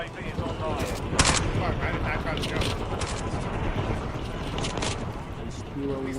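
Heavy gunfire from a big gun in a video game, loud bursts and sustained shooting throughout, with battle noise and a voice talking over it.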